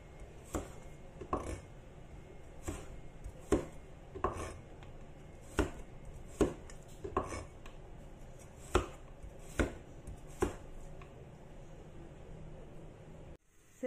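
Hard carrots chopped into small pieces with a knife on a wooden board, a series of crisp, distinct knocks at an irregular, unhurried pace, close and clear against quiet kitchen background, ending abruptly.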